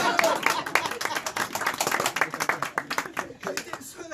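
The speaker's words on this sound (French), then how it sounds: "j'étais le seul à applaudir." Clapping from an audience at a one-man comedy show at Café Oscar in Paris, sharp hand claps in an uneven, fairly dense run that stays steady and close throughout, with no talk over it.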